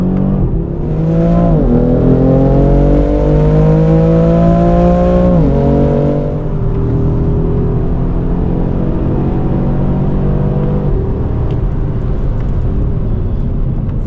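An Audi RS3 Performance on ceramic brakes and Trofeo R tires drives hard around the Sachsenring race track, its five-cylinder engine droning loud and close with rising revs and gear shifts, then settling into a steady rumble.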